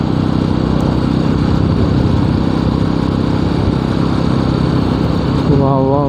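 A Jawa 42 v2.1 motorcycle with 51,200 km on it runs with a close, constant engine thrum and an even, unbroken drone while riding. A voice talks briefly over it near the end.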